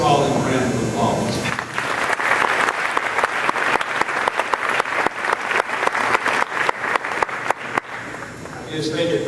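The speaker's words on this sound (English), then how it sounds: "So let's give all them a round of applause." Sustained applause from an audience at a high school spring sports awards ceremony, dense clapping filling the room for several seconds, with brief talk at the start and end.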